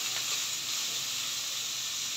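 Chopped onion, green chili and garlic sizzle in a hot pan, giving a steady, loud hiss that lasts the whole short stretch, with no voices.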